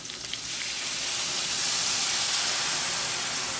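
A pan of gravy made from beef bouillon, milk and cornstarch simmering over low heat, giving a steady close hiss and soft sizzle that holds evenly throughout.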